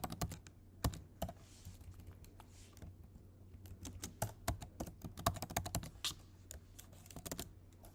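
Computer keyboard typing in a quiet room: irregular bursts of close, crisp keystrokes with short pauses between runs, no voices.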